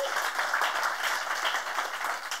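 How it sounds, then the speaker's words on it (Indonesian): Youth sermon congregation applauding at a church gathering: a steady, dense wash of many hands clapping throughout, fairly close and even, with no voices over it. "Tepuk tangan, jangan tanggung-tanggung."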